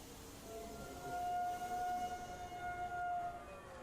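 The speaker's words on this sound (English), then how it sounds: "Sirens." A wailing siren rises and holds in a visual novel murder mystery game, a moderate tone over a low murky background, with no talking.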